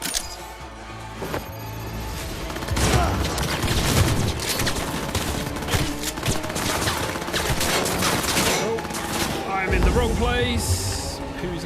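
Sustained gunfire in the video game Cyberpunk 2077, a dense, continuous fusillade of shots and impacts close by, with a player talking over the shooting.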